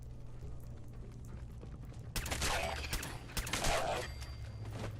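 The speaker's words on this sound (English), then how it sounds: "Returning fire." Gunfire exchange in Fallout 4, with a burst of rapid shots and impacts erupting midway over a low droning game background, then a second cluster of shots before it settles back to ambience.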